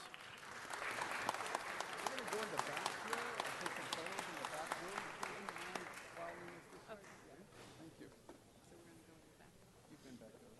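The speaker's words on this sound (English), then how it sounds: "Let's give him one more round of applause." Audience applause for an honoree at a ceremony, a sustained dense clapping from a crowd that swells and then gradually thins out, with a voice speaking under it.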